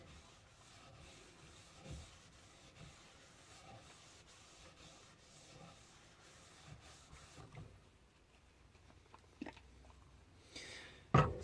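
Oil is rubbed steadily into a leather axe sheath, a faint, continuous scuffing friction with a few soft knocks toward the end.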